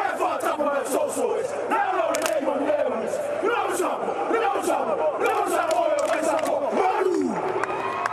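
A Samoan women's rugby team chants its cultural challenge at a rugby match, a loud massed battle cry of rhythmic shouted voices with whoops, steady and close over crowd noise.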